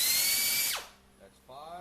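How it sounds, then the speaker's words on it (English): A drill with a 0.046-inch bit enlarges holes in a 09G transmission valve body, giving a loud, steady high-pitched whine that spins down. Brief quieter tool noises follow. "We enlarged 6 holes with the 46 thousandths of an inch drill bit."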